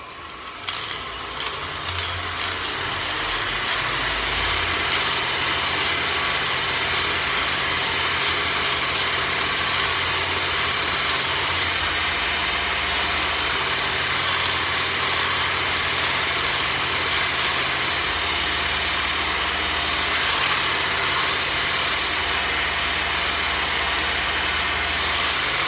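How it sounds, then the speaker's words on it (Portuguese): A knife blade is polished on a Global Tech felt sanding belt, producing a steady, loud, broadband whirring roar that runs unbroken after a few light clicks at the start. "Eu vou passar essa faca aqui nessa lixa de feltro lá da Global Tech"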